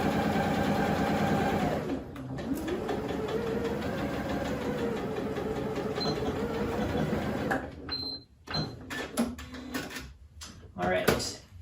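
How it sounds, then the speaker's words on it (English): A sewing machine stitches a quarter-inch seam on a homemade fabric face mask, whirring steadily for about eight seconds before stopping, with a person talking over it and a few handling clicks afterward. "And we're just sewing across here."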